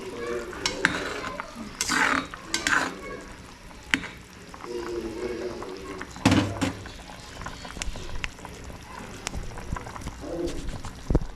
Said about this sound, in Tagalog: Lagyan ko kamatis ngayon.